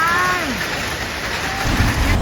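Hailstorm pounding Grafton, Australia, a steady broadband roar of ice hitting surfaces with a heavier low rumble building near the end; a faint tonal sweep passes early on.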